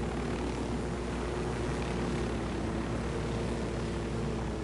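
A helicopter in the Ghost Recon Wildlands video game gives off a steady, loud rotor and engine drone that fills the whole stretch without letup, with no talking over it.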